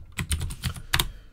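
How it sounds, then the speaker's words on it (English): Fingers type on a computer keyboard, about six close, crisp key clicks in an uneven rhythm, ending in a quick double tap before a short pause. "start typing our entry here."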